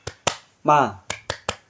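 A teacher leads a classroom through the 'tepuk semangat' clapping rhythm: two sharp, close claps, a loud chanted word, then three more crisp claps in quick succession.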